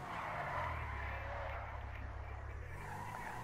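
Car drifting with tires skidding in Grand Theft Auto V, a steady loud engine drone with sustained squealing tire noise that continues for a few seconds, then drops off near the end.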